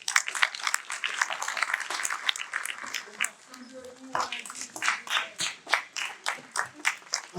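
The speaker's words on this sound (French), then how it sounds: "je demande pour elle une ovation debout" A graduation ceremony crowd for a pharmacy class gives a standing ovation, with dense applause that thins into scattered rhythmic clapping, loud and moderately distant, with a voice speaking over it.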